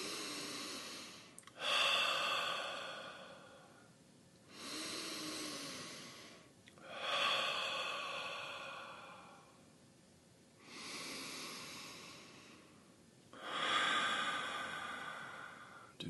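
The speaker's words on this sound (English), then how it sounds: "breathing in through the nose and out through the mouth" Slow guided breathing during a meditation session, drawing in through the nose and releasing out through the mouth: about five long, close, airy breaths, each rising and fading over a couple of seconds with quiet gaps between them.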